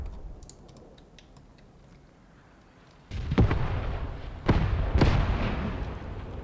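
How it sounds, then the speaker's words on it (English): Mortar shells exploding on farmstead buildings in the Graviteam Tactics war game: a quiet stretch, then a sudden loud blast followed by two more heavy booms about a second apart, each with a rumbling low tail. "the mortar strike on the farmstead buildings so far is pretty good"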